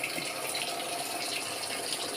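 Tap water gushes strongly and steadily into a Samsung wobble-type automatic washing machine, a loud continuous hiss and splash with no speech.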